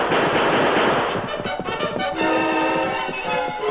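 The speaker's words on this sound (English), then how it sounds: "As Silver reared high over Braden, the masked man's bullet sent the rifles flying, while Tonto hurtled off Scout's back" Gunfire rings out in a Lone Ranger radio drama as the masked man shoots the rifles from outlaws' hands, a dense loud crackle of shots with echoing ring-out and no voices.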